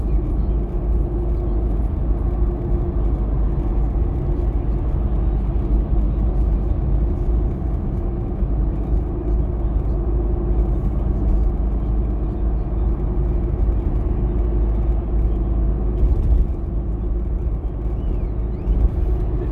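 A 1966 fastback Mustang driving on a bumpy country road, heard from inside as a steady, loud low engine drone and road rumble that holds without a break throughout.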